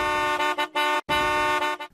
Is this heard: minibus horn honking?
yes